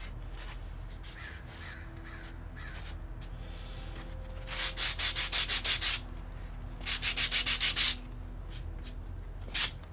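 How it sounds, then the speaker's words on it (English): Hand sanding of a tabletop dungeon terrain piece: bursts of quick, close rubbing strokes, two runs of about six to eight rasping passes each, with quieter scraping between and faint background noise. "This is the first piece I'm actually sanding."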